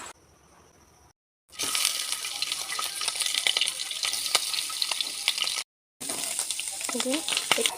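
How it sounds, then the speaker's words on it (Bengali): Boiled fish roe frying in a pan makes a loud, dense sizzle with crackling pops, broken by two brief silent gaps, with a faint background hiss at the very start. "ডিমটা কিন্তু বয়েল হয়ে গেছে, এখন এটা ফ্রাই করব"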